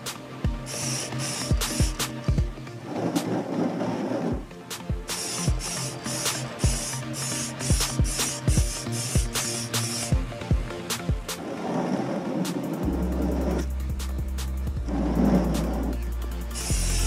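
Aerosol spray can hissing in repeated bursts as a coat of cheap candy paint goes over chrome, loud and close, with short rattles and pauses between passes.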